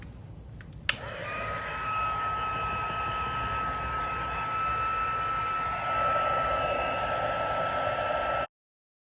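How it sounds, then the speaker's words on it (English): A Stampin' Up heat tool on setting 2 heat-setting embossing powder, a steady close blowing roar after a brief click, running continuously for several seconds before cutting off. "Then I've got my Stampin' Up heat tool here. I'm gonna put it on setting 2 and I am going to heat set this."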